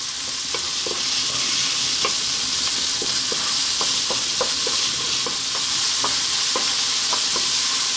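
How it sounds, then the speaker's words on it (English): Canned crab meat stir-frying on high heat for fried rice, a continuous loud sizzle with repeated scraping and tapping of the spatula as it keeps moving in the pan. "in goes our crab meat. Two minutes, high heat, keep it moving."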